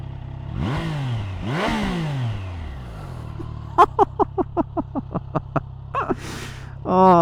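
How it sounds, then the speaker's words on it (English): Triumph motorcycle engine running and revving: two rising revs early on, then a steady idle, followed by a rapid series of sharp, regularly spaced pops, close and fairly loud. "let me show you the bike. So to second, then down to neutral. I found that apparently on a lot of Triumphs that is the way to go."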